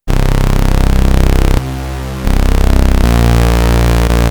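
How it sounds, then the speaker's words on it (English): A loud, buzzy sawtooth synth tone from the Vital synthesizer, a saw oscillator with unison layered with another saw an octave down, playing sustained notes that change pitch, with a short thinner passage midway. "this sound is a saw oscillator with a bit of unison, another saw oscillator, an octave down, no unison"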